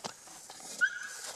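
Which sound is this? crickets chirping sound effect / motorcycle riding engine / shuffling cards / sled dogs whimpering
sled dogs whimpering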